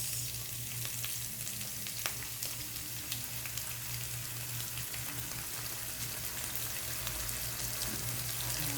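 Kangkong stir-fried with tofu and fried pork in a pan, oyster sauce already added, giving a steady close sizzle and frying crackle throughout with occasional stirring scrapes and no talking.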